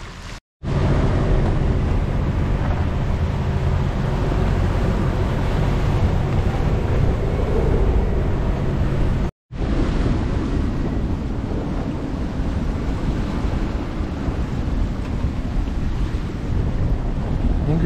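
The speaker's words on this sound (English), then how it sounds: "Angry seas today, about 25 knots from our beam" Strong wind buffets the microphone aboard a sailboat crossing the North Atlantic, with rough seas surging against the hull in about 25 knots of beam wind, a loud, continuous roar broken by one brief dropout.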